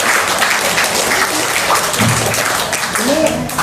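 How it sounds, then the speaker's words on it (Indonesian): An audience at a religious gathering applauds Kang Abu, a sustained, thick round of clapping from many hands that continues evenly throughout, with faint voices mixed in. "Tepuk tangan dulu dong sama Kang Abu."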